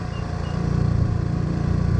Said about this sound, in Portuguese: Ela tá descendo aqui só na frenagem do motor.